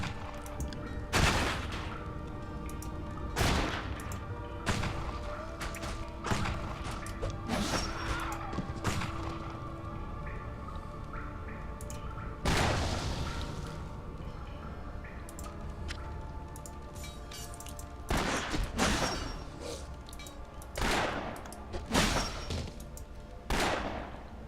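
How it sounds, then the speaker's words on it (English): Repeated rifle gunfire in the action RPG Torchlight, sharp loud bursts fired in irregular volleys over a steady game background hum, with occasional crash-like impacts between shots. "Much longer range with the rifles."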